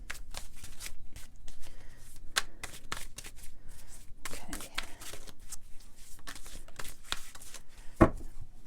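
Shiny, nice-sized tarot cards are shuffled by hand in quick repeated riffles and slaps, close and soft, with a sharper snap near the end.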